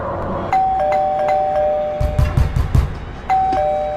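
A doorbell chimes twice with a bright electronic ding-dong, ringing out alone against quiet background noise, with some low thumping in between.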